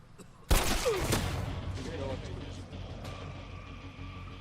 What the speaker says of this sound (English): Jensen Baines, we heard 2 more gunshots in your direction.